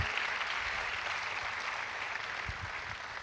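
Applause from a forum audience after a presentation, a steady dense wash of clapping that stays even and fairly soft throughout, with no voices standing out.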